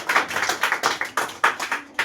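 A classroom group at a girls-versus-boys quiz competition claps together in a steady, rapid run of about a dozen sharp claps, loud and close, with no talking over it.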